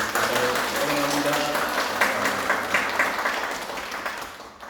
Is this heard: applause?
yes